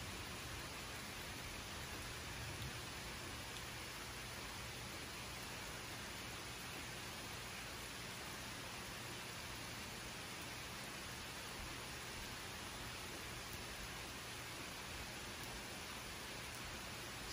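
Steady, dense hiss of heavy rain pouring down continuously, with no breaks or voices.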